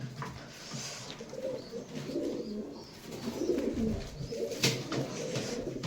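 Pigeons in a loft with new nests and new birds coo in low, overlapping murmurs that continue throughout, with a sharp knock near the end.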